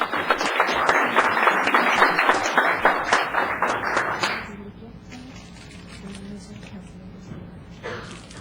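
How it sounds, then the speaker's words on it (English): Applause from the audience at a town council meeting, a dense burst of clapping for about four seconds before it stops abruptly, leaving quiet room tone. "Applause, please, for Ronan."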